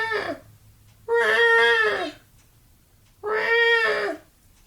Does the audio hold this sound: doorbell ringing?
no